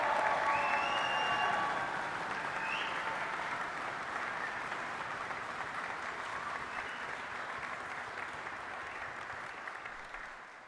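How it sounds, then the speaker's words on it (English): Loud, sustained applause from a large crowd at a college graduation ceremony, starting strong and slowly tapering off across the clip, with no speech over it. "a huge round of applause"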